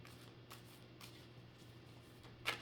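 Tarot cards being shuffled by hand, soft quiet riffling in repeated bursts about every half second, close and alone, ending in a sharper snap.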